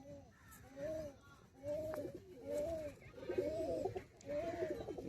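Madrasi high-flyer pigeons give clear, rhythmic cooing, a series of evenly spaced rolling low calls repeating close by, loud and steady across the stretch.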